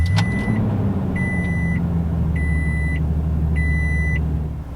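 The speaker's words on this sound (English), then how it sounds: "taking the key and inserting it into the ignition, we can go ahead and fire it up." A 2021 Toyota Tundra Crewmax SR5 pickup just fired up and running at a steady idle, its low, even engine rumble close by, with four evenly spaced warning chimes sounding over it.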